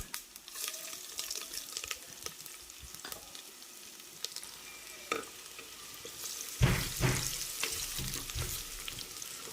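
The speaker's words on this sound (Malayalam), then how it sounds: "തേങ്ങാ കൊത്തിട്ട് കൊടുക്കുക അതൊന്ന് മൂത്ത് വരുമ്പോൾ ചെറിയ ഉള്ളി അരിഞ്ഞതിട്ട് കൊടുക്കാം" Chopped coconut pieces fry in oil in a hot cooker pot with a low crackling sizzle and occasional stirring scrapes. A louder burst of sizzling and clatter comes near the end. Nobody speaks.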